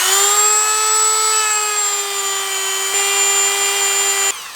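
A Dremel rotary tool polishing a penny with jeweler's rouge, a loud steady high-pitched whine that holds for several seconds and then cuts off.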